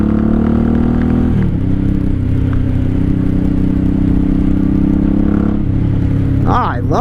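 A 1983 Honda Shadow VT750C 750 motorcycle under way, its engine a steady close drone with a brief shift in pitch, wind and mechanical clatter throughout, and a voice speaking over it near the end.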